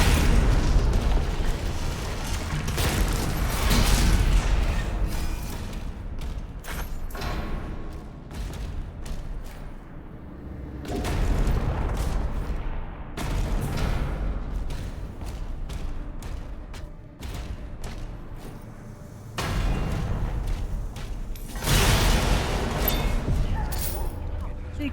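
Stone Imp exploding in a video game: several loud booming bursts spaced across the stretch amid busy game action and rumble.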